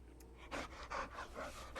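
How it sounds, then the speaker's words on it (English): A dog in Guild Wars 2 pants in short, quick, breathy bursts, a few puffs in a loose rhythm, close but quiet, with no talk over it. "Happy dog noises."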